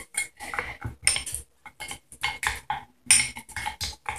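A spoon works slime in a container, scraping and knocking in quick irregular bursts with brief gaps between, close up and with no voices.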